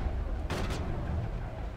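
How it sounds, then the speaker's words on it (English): Cannon fire in the video game Mass Effect: a short, sharp blast with a brief double burst over constant low rumbling game noise. No one speaks. "Cannon."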